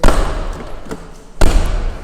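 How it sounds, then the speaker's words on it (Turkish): A Tofaş Şahin car door is shut twice, each a sharp, close slam followed by a short rattle and hollow ring, separated by about a second and a half of quieter pause. "Kapıların kapanması da bu şekilde."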